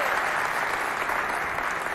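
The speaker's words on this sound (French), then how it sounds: "J'aimerais qu'on applaudisse pour les 3 membres du jury qui sont ici devant" An audience applauds the three jury members at a youth holiday talent competition between neighbourhood groups, a dense, steady wash of clapping that fills the space from start to finish without a break.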